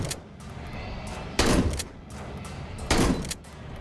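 Two heavy shotgun blasts from Signalis, evenly spaced about a second and a half apart, each a sharp loud crack with a short ringing tail over a low ambient hum.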